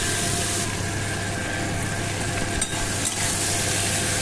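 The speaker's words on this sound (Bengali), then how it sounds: "নুনটা দেওয়ার পর এটাকে আবার আমি কিন্তু ভাজবো" A salted vegetable curry fries in a pan, giving a loud, even sizzle that runs throughout over a low steady hum, with two brief dips and faint stirring clatters near the end and no talk.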